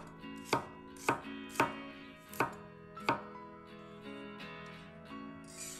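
A knife chops garlic cloves into small pieces on a cutting board for a celery and dried tofu stir-fry, five sharp, evenly spaced strikes close up, then quieter scraping without talk.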